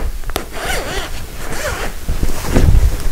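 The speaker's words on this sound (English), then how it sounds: "Let me just unzip this here." A zipper is pulled open along a boxed T-shaped upholstery cushion cover with a few quick, close, raspy strokes and some fabric handling, and no one speaks.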